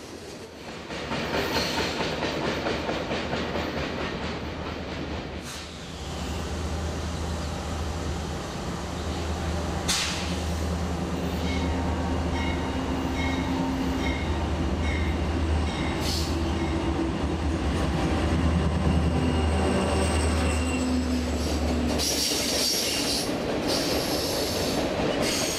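A long Norfolk Southern freight train of RoadRailer trailers rolls steadily past nearby, wheels clacking and squealing over the rails with a constant rumbling roar throughout.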